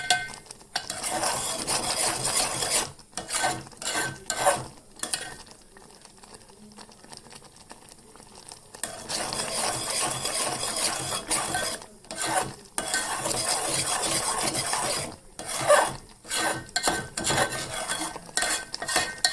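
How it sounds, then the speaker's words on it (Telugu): A spoon scrapes and stirs a grated fresh coconut mixture in a pan, near and continuous with brief pauses, soft sizzling beneath the repeated scraping strokes and no talk. "కన్సిస్టెన్సీ వచ్చేదాకా ఇలా కలుపుతూనే ఉండాలి లేకపోతే అడుగంటిపోతుంది"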